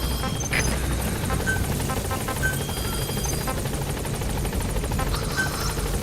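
A support helicopter arrives in Metal Gear Solid V, its rotor thudding loud and steady throughout. Faint high tones and bleeps sit over the constant roar.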